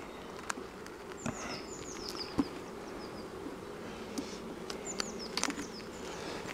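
Honeybees buzz steadily around an open nucleus hive while frames are moved during a transfer to a full hive. The hum is soft and continuous, with a few light knocks and scrapes.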